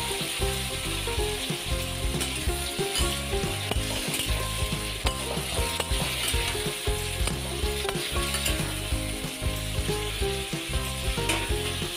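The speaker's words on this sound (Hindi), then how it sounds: "तो ये देखिए मैं आलू की भुजिया को डाल दे रही हूँ" Potato bhujia fries in a pan with a constant sizzle, while a utensil stirs and scrapes in a steady, rhythmic clatter throughout.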